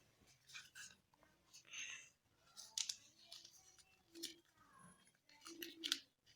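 Sheets of paper being folded and creased by hand while shaping an origami Among Us crewmate figure, a run of close, crisp rustles and sharp creasing snaps with brief pauses between them.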